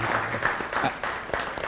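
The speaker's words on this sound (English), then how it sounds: "Please, a round of applause for our legends." Scattered applause at a cup draw event in Kenya, uneven claps rising and falling with some crowd voices mixed in.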